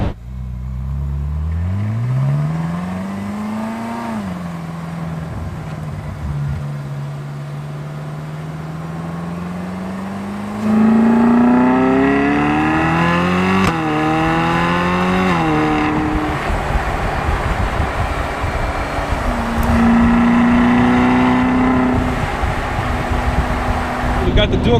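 A Ferrari California with a dual-clutch transmission accelerating from inside the cabin, the engine note climbing steadily, dropping at each quick shift, then surging again louder and harsher, with a steady loud rumble throughout.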